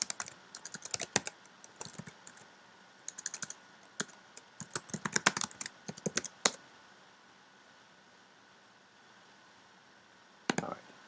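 Keys clatter on a computer keyboard as someone enters a login and password, bursts of quick close taps broken by pauses, then a final few strokes after a long gap.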